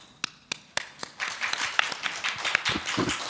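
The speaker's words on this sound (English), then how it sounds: "please join me thanking to the panelists for their contribution with a warm applause" Audience applause for panelists at a seminar, starting as a few separate claps and building into a brief, moderately loud patter of clapping from a small group.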